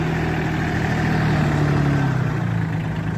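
The small diesel engine of a Solis 26 mini tractor idles steadily and close by, a low throbbing rumble that holds constant throughout.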